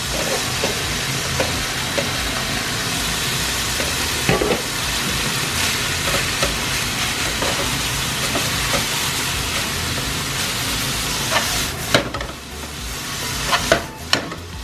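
Cabbage sizzles in a frying pan for tonpeiyaki, giving a loud, continuous hiss close up, broken by occasional sharp utensil scrapes and clacks toward the end and no voices.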